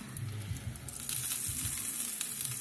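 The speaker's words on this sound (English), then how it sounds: "frying them up" Chicken taco filling sizzles and crackles steadily in a frying pan, close and moderately loud, with no talk.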